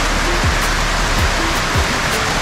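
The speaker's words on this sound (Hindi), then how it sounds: "बारिश आ रही है बहुत भयंकर यहाँ पे" Dense, steady rain pours down hard in a continuous roar, with no voices.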